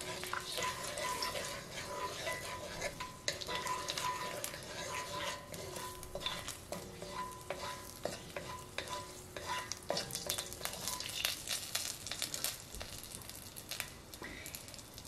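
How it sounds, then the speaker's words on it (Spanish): A clove of garlic fries in hot oil with a constant, dense sizzle and crackle that runs throughout, mixed with occasional scrapes and clinks of utensils nearby. "ya después de estar así caliente el aceite, entonces voy a agregar un dientecito de ajo para que deje el sabor y luego lo retiro"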